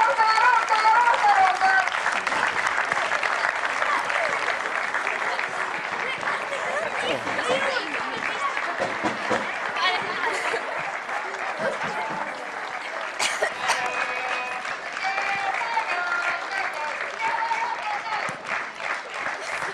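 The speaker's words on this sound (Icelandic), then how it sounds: "klappið duglega fyrir okkar ungviði" Audience applauding youth football champions at a Reykjavik trophy presentation, sustained clapping from a crowd, with scattered coughs and voices mixed in throughout.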